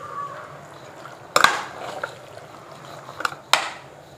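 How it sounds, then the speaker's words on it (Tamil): Country chicken curry being stirred in a pot for a Kerala-style nattukozhi kulambu, heard as a few sharp scraping clatters of a spoon against the pot amid quiet kitchen background. "நல்லா கிளறி விட்டுக்கோங்க"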